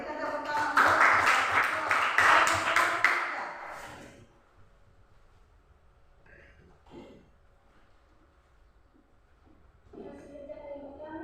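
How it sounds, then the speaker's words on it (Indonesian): Classroom applause for a student group, a dense burst of clapping for about four seconds that then stops, leaving a quiet room with a few faint sounds before talking starts near the end. "Oke, berikan tepuk tangan untuk kelompok."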